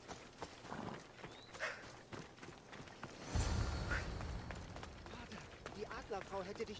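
Horse hooves clip-clopping in Assassin's Creed Odyssey, quick faint running hoofbeats under game effects and someone talking over them.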